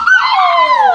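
A puppy gives one loud, close, drawn-out whimper that slides downward in pitch, a high thin whine lasting under a second with no talking over it.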